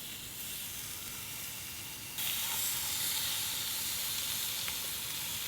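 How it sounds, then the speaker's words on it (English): Burgers sizzle on a grill with a steady, close hiss and crackle that gets noticeably louder partway through and then holds at that level. "let's throw these burgers on the grill"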